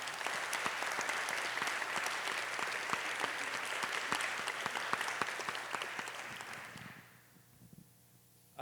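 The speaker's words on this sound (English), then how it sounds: "So let's give them all a round of applause." An audience at a contemporary art talk gives a panel of artists a sustained round of applause, with dense, even clapping that fades out abruptly after about seven seconds into quiet room sound.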